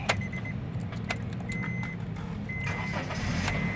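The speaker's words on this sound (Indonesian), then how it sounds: "Coba kita nyalakan dulu mobilnya untuk mendengar mesinnya." A 2014 Honda Mobilio 1.5 E automatic engine cranks and starts, settling into a steady low idle, with a few faint high clicks and tones over the rumble.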